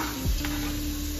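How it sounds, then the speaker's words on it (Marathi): Onion and curry leaves frying in a pan for egg bhurji, a steady close sizzle with a brief stirring scrape partway through, no voices. "भाजला वेळ तडथड फडफड होऊ द्या कांदा आणि कढीपत्ता"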